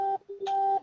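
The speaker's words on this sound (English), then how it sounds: "That was loud, phone." Phone notification sound, a short series of loud electronic tones, two quick beeps followed by a longer sustained chime, all within under a second.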